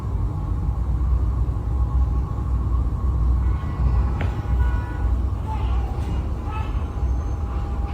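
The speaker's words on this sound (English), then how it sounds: "the train stopped at the last moment." A train rumbles steadily along the tracks with a low, continuous roar and a faint high squeal, heavy and close throughout.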